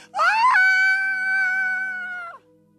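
A single voice imitates an amusement park scream, a loud sustained wail that rises sharply, holds steady for about two seconds and then drops away.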